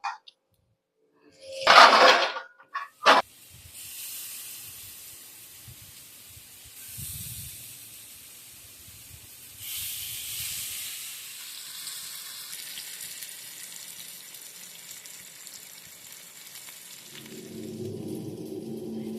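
Steady frying hiss and sizzle of oil, with a couple of louder bursts early on, continuing at a moderate level throughout.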